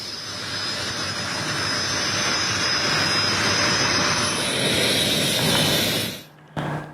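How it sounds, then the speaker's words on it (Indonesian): A Dassault Rafale fighter jet's engine roars as a loud, steady broadband hiss and rumble, holding for about six seconds before cutting off abruptly, with a brief burst just after. "penampilan perdana jet tempur terbaru Dassault Rafale"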